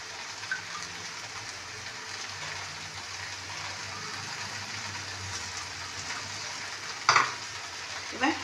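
Spices frying in a pan for Bengali shukto sizzle steadily and close while being stirred, with a few quiet scrapes and then a louder clatter of the utensil against the pan toward the end.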